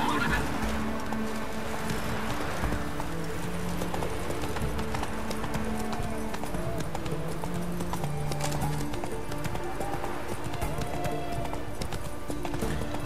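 Horse hooves clip-clop steadily in The Witcher 3, with a neigh or whinny partway through and faint game ambience running underneath.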